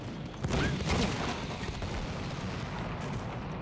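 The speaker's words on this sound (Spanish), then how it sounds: "Nos están disparando con el puto tanque aquí atrás." Tank cannon fire and heavy battle noise in the World War I shooter Battlefield 1, with dense rumbling blasts peaking early and a continuous wash of gunfire throughout, close and loud.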